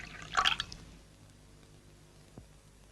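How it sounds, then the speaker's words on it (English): Tea being poured in a TV advert: a brief bright splashing gush of liquid at the start, then quiet with a faint drip or clink later. "the sound of pouring is mixed almost as high as that bloody baby"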